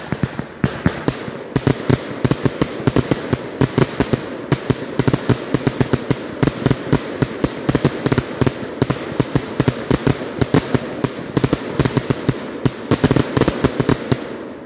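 A Pyro Demon 49-shot glittering willow to blue firework cake firing a rapid, steady string of sharp crackling pops and bangs, loud and continuous throughout with a crackling glitter wash between shots.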